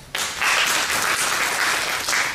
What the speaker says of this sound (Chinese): 掌声哈。